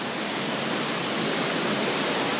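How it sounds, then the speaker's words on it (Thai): Broad, dense rushing roar of a waterfall on a stream crossing in a forest setting, steady and close, filling all the sound with no talk. "นี่มีน้ำตก สวยมาก"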